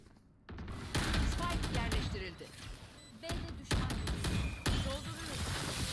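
Rapid gunfire cracks in a Valorant tournament match, several sharp bursts and single shots over a steady game background, while a player talks excitedly.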